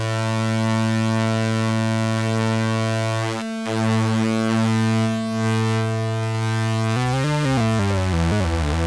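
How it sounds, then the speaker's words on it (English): EMS Synthi synthesizer voiced like a Moog, a loud sustained buzzy tone rich in harmonics holding steady with a brief dropout, then wobbling and sliding in pitch near the end. "Sounds like a Moog, does it?"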